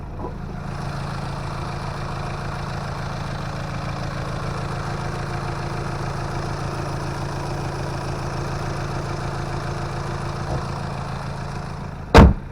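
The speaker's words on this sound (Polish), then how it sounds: "Silnik przykurzony, pracuje równo." An Audi A6 C7 V8 engine idles evenly and steadily at close range for several seconds, a smooth low rumble, ending with a sharp brief knock.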